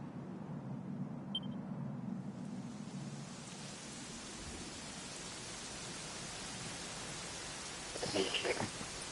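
Rain falls steadily in Dragon Quest 11, a soft continuous hiss with a low rumble underneath for the first couple of seconds and a brief brighter burst near the end.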